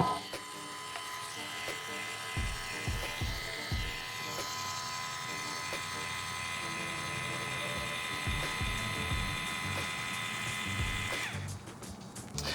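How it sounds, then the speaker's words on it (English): Linear actuator opening an automated voice-activated coffee table, a steady mechanical electric whine with gear-like grinding, close and continuous, with a few knocks and a louder rattle at the end. "how loud the actuator was, and if you can believe me, it's not as loud as it actually sounds"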